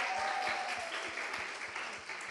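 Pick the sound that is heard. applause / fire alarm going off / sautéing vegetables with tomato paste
applause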